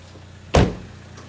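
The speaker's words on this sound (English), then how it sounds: "Let's go ahead and pop the hood" A single solid clunk of a 2015 Chevrolet Trax LTZ hood latch popping open, fairly close, with a short low thump and brief decay over quiet background hum.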